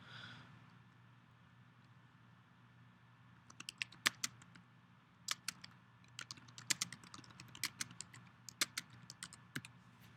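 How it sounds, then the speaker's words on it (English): Quiet, close computer keyboard typing in an office setting: irregular bursts of soft key clicks after a few seconds of low room hum, with no voices. "I'm just going to type in something here that explains the failure"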